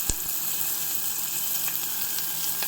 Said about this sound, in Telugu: నెయ్యి వేడయిన తర్వాత, కరిగిన తర్వాత కొంచెం అల్లం ముక్క, ఉల్లిపాయ, పచ్చిమిరపకాయ వేసుకుందామండి.